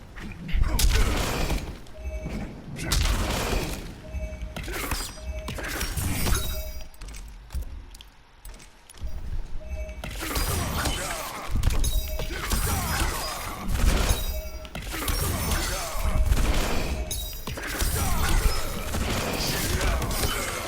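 Scorpion's air grab in Mortal Kombat 11 lands with crunching, shattering impacts and heavy thuds over busy game sound, while someone talks throughout.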